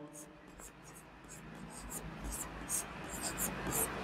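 Pen writing out a Class 10 real-numbers math solution on paper, a steady scratchy stroking that runs throughout at close range with soft breathy noise alongside.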